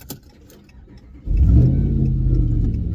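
Ram pickup with a Whipple-supercharged 392 V8 and a failing transmission: quiet idle rumble, then the engine suddenly climbs into a loud, sustained rev that holds steady to the end.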